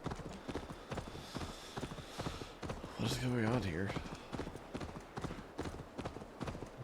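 Rapid rhythmic horse hooves clip-clopping during riding in Assassin's Creed Valhalla, with a horse whinny partway through and someone talking over the galloping.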